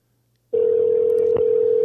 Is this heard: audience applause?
no